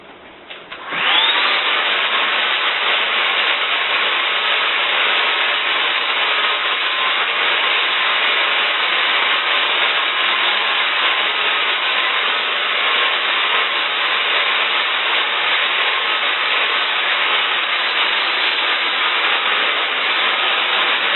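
A hair dryer blow-drying hair switches on and runs as a loud, steady, close whoosh of airflow, unbroken for about twenty seconds with no talk.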